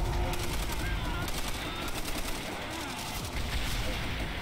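Rapid, dense machine gun fire in the Call of Duty: World at War video game, loud and continuous with mixed gunfire and explosive noise throughout.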